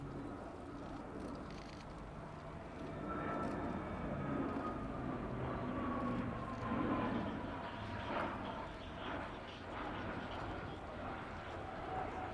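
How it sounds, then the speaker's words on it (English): Alenia C-27J Spartan twin-turboprop transport of the Italian Air Force performing a roll during a flying display at RIAT, its engine drone steady and distant, rising slightly as it passes, with faint crowd ambience. "C-27J positioning in front of us for the so-called roll under."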